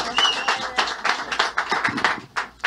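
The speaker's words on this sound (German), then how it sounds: "Dann machen wir nochmal großen Applaus für unseren Gary." Scattered audience clapping at a show, with individual claps standing out in an uneven rhythm while voices talk and call over it.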